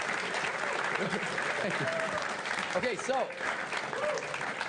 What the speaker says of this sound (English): I wanted to get a big round of applause